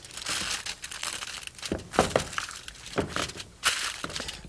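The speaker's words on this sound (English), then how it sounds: "cover your casserole dish either with a lid or some foil" Foil being pressed and crinkled tightly over a casserole dish, heard as close, loud bursts of crackling and crumpling in irregular rhythm, with no voices.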